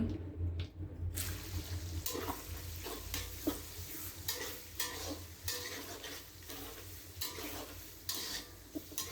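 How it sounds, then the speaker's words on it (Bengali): Chopped onions frying in a pan with sugar for a chicken roast, a soft steady sizzle broken by repeated scraping strokes of a stirring spoon, fairly quiet and close, with no voices. "এগুলো একটু আমি ভেজে নেব। পেঁয়াজ কুচিগুলো দিয়ে দিলাম"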